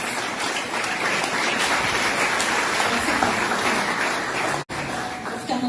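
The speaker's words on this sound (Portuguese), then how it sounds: "Vocês podem aplaudir o nome do Senhor pela vida delas?" Steady applause from a church audience during a women's ministry service, dense and continuous for several seconds, briefly cutting out near the end before resuming.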